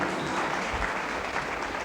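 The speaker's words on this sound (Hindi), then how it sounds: "एक बार ताली बजा के हमारे मामा के लिए ताली बजाइए।" Audience applause at a public event for a girls' welfare scheme, dense, even clapping from a large crowd filling the whole moment.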